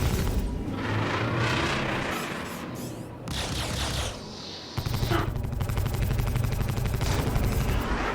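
Spaceship guns firing at a fast M50 ship in the Star Citizen video game, heard as loud bursts of weapon fire with rumbling booms, then a sustained rapid stream of shots in the last few seconds.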